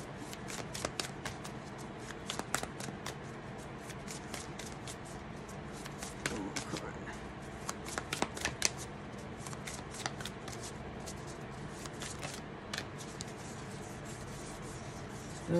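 A deck of cards is shuffled again and again for a spirit reading, with crisp, rapid riffling bursts and soft rubbing between them, close and quiet, with faint talk in the background.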